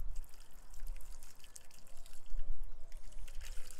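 Hot water mixed with molasses pours into a container, giving a steady close trickling and splashing stream with small drips throughout, no voices.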